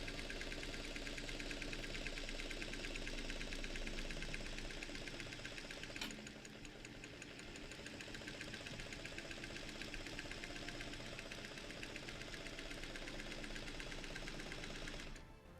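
A Singer 301 sewing machine, freshly cleaned with buffed tension discs, runs steadily with a dense, even mechanical whir and rapid stitching rhythm, close and loud with no talk, stopping near the end.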